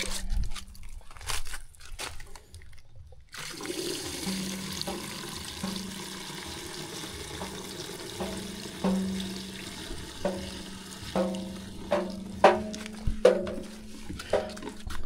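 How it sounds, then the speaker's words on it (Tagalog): Water is poured into a cooking pot of sardines after a short quiet start, followed by intermittent clinks, scrapes and splashes at close range. "So lagyan natin itong tubig."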